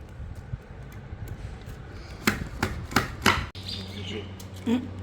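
Mango being chopped into small pieces for pickle, with a burst of sharp, close knife strikes near the middle over a steady background hum and some quiet shuffling.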